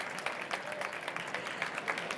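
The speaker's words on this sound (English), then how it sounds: "Let's clap on our hands to wake us up." An audience at a VivaTech session claps hands, a thin, fairly quiet patter of individual claps in a loose, quick rhythm from a modest crowd, heard at some distance.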